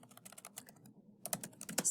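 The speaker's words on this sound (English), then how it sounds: "You guys are getting to see my awesome typing skills." Keys clatter on a computer keyboard in quick bursts of close, light taps, with a short pause before a faster, louder run of typing.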